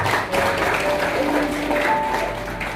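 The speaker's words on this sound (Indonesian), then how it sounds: "Tepuk tangan bagi Tuhan." Applause from wedding guests at a church marriage ceremony, a steady wash of clapping held for a few seconds with sustained tones and murmuring beneath it.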